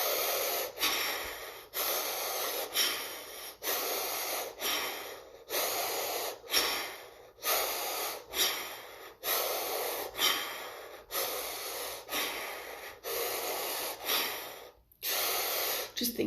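Deep, rhythmic breathing during a breathing practice, with forceful inhales and exhales repeating roughly every second, close and fairly loud with a hissing, snorting quality.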